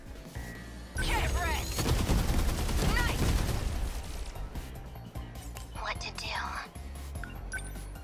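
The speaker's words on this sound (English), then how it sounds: "let's keep shooting" Gunfire in the video game 13 Sentinels: Aegis Rim, with dense rapid bursts of shots and crashing impacts layered over game music, while a player speaks now and then.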